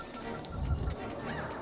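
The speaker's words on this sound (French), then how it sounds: "je me souviens de ce petit canard là" A small cartoon duck in a video game gives a short honking quack near the middle, over a low background hum.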